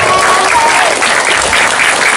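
Students at an Islamic boarding school gathering clap together loudly and continuously, a dense close wash of applause with a faint whistle-like tone early on.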